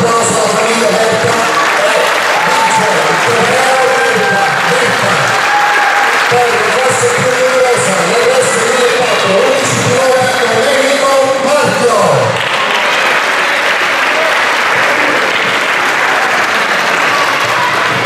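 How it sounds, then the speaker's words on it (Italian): An outdoor crowd at a slalom car race claps in sustained, dense applause for the full length, loud and continuous, with someone talking over it through a PA. "facciamo un applauso alla famiglia Berta."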